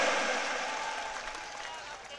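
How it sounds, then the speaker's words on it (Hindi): Crowd applause welcoming a speaker at an election rally in Rajasthan, a brief dense wash of clapping, fairly loud and slowly easing off. "आप जोरदार तालियां बजाकर स्वागत करें।"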